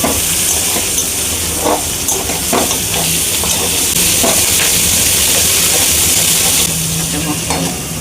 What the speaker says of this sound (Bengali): একটু নাড়াচাড়া করে সামান্য একটু নুন দিয়ে দিতে হবে যাতে পেঁয়াজটা তাড়াতাড়ি নরম হয়ে যায়